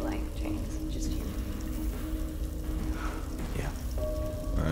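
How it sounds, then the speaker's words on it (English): Steady rain falls in a Silent Hill 2 Remake game scene, a constant hiss of drops on surfaces running throughout, with voices talking over it. "Nothing like a stroll in acid rain."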